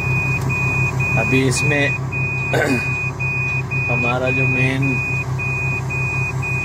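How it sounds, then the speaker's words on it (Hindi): A Liebherr crane's warning alarm, set off by a damaged boom wire, sounds as a steady, evenly spaced high beep repeating throughout over the idling engine's low rumble, while someone talks intermittently. "बूम के साथ वायर जाता है वो थोड़ा डैमेज है, उसकी वजह से ये थोड़ा अलार्म दे रही है।"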